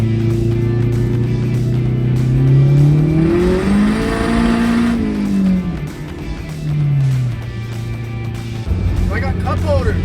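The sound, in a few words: custom-built car driving and accelerating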